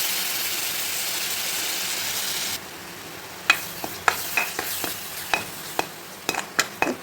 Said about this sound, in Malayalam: ഈ സമയത്ത് നമുക്ക് തക്കാളി അരച്ചത് ഒഴിച്ച് കൊടുക്കാം